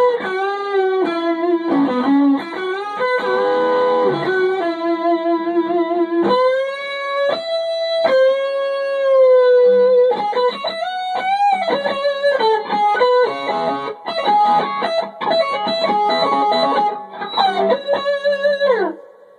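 A loud, distorted electric guitar plays sustained notes and bends through a modded Gibson GA-15RVT amplifier, buzzy and continuous throughout.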